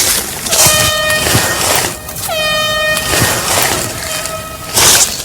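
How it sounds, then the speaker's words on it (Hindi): A loud air horn blares out in the wilderness during a survival search challenge, sounding in several long sustained blasts with brief dips between them, close and dominant. "हॉर्न बज रहा है"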